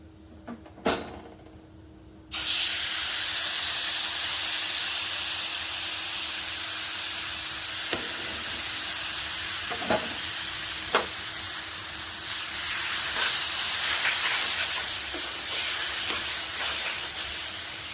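Palm pulp fries in a pan with a loud, steady hiss of steam and sizzle that cuts in after a quiet start, with a few faint clinks of stirring along the way.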